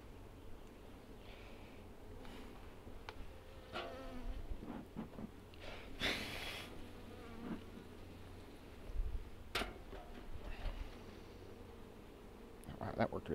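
Honey bees buzz around an open beehive during an inspection, a steady close drone with handling knocks and rustles, and a voice speaks intermittently over it.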